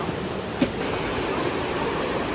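A mountain valley stream rushes steadily nearby, a broad, constant wash of flowing water with one brief tap early on.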